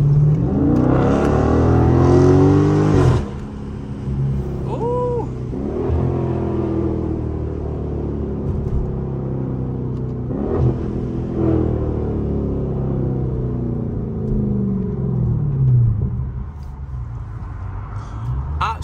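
A Dodge Charger cruises through an Atlanta neighborhood, its engine giving a steady close rumble with revving swells that rise and fall throughout, and a brief voice may surface under the motor.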